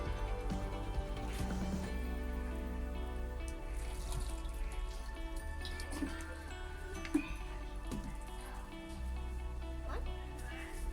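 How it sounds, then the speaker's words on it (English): Water is poured onto a homemade salad terrarium, with light trickles, drips and squishy splashes running through the clip under a steady background hum. "I am going to be just giving it a little bit of water"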